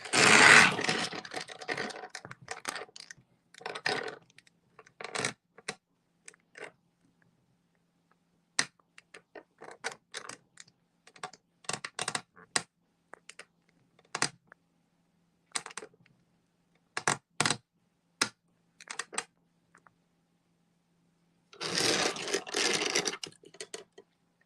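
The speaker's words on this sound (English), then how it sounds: "Forgive the really terrible noise. That's just me adjusting the camera." Camera being adjusted by hand: scattered close clicks, scrapes and rattles in irregular bursts, with a longer scraping rush at the very start and another near the end.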